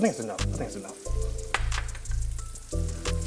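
Four garlic cloves fry in a pan, giving a close, soft sizzle and crackle that rises and falls in short bursts, with occasional stirring sounds and no talk.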